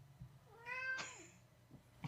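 A cat gives a single clear rising-then-falling meow. It is fairly close but quiet against faint background hum, with a small thump before it and a soft sound after.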